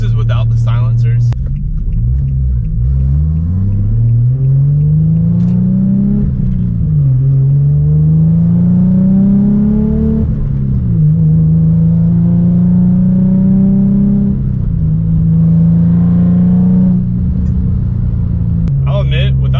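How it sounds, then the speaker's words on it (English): A car engine with a straight-through exhaust and no silencers drones loudly and deeply as it accelerates through gears, revs rising and dropping repeatedly, with a person talking over the rumble. "show basically what the car sounds like when you're driving it with the new exhaust on"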